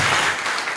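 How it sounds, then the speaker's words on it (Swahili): Audience applause for a candidate at a ward representative candidates' debate, a brief, dense burst of many hands clapping that fades slightly toward the end. "Makofi kwake tena."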